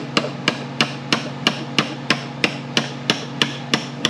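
A valve is tapped into the bore of a Ford 4R70W automatic transmission with a steady series of about a dozen light, sharp taps, close and evenly spaced.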